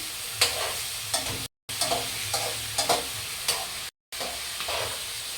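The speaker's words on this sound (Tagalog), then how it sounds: "Lagay natin ang mantika. Haluin lang natin." Chicken adobo sizzles in oil while a utensil stirs it in rhythmic scraping strokes. The loud, close frying hiss breaks off twice for brief moments.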